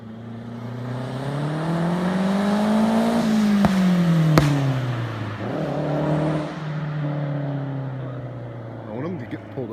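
A Mazda car fitted with a CNT turboback exhaust drives past, its engine drone rising in pitch as it approaches and falling as it pulls away, with a droning exhaust note that stays loud throughout.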